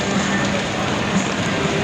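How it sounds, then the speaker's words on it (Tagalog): Heavy typhoon rain near the swollen Marikina River, a dense continuous downpour hiss, steady and enveloping with no breaks. "Kasi hindi pa tumitigil ang ulan."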